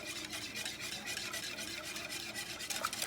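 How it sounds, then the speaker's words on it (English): Creamy sauce mixture for beef and broccoli whisked briskly in a bowl, a steady close wet swishing with rapid rhythmic strokes, quiet overall and with no talking. "And give it a good whisk."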